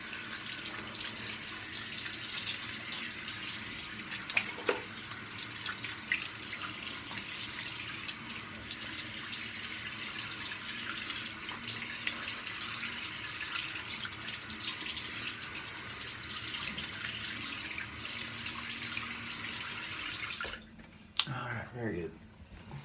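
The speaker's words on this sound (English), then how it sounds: "Alright, cold rinse." Cold water runs steadily from a tap into a sink as a face is rinsed after shaving, a constant close splashing stream that stops near the end.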